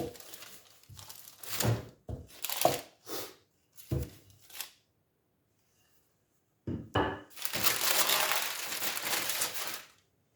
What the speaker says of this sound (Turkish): Şimdi bunu makasla keseceğiz.